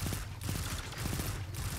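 Rapid gunfire from a Destiny 2 PvP match, a dense continuous burst of shots lasting about two seconds, loud and close with no talking over it.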